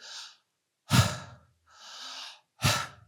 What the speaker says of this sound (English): any breathing tradition where you do deep breathing without real pauses